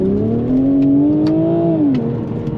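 A BMW Z4 M40i roadster with the B58 six-cylinder engine, top down, accelerating hard: a loud, steady engine note climbing in pitch, then easing slightly near the end, close and alone with no talk.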